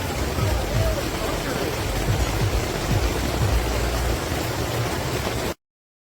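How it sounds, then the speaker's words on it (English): Dime-sized hail pelting the fabric of a Core 9-person instant cabin tent, a dense, steady broadband patter with scattered sharper impacts, loud and continuous for about five and a half seconds before cutting off. "Hail."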